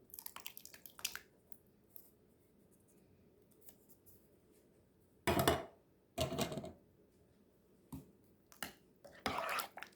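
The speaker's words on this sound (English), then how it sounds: "I'm going to add these butter beans in here." Butter beans tumble into a soup pot in a few separate wet, squishy bursts of clatter and splashing, with quiet gaps between them and no talking.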